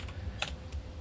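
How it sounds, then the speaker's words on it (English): Quick, light clicks of typing on a computer keyboard, a few soft keystrokes in about a second with one slightly sharper tap, faint and close against a low background hum. "started typing in the other chat there"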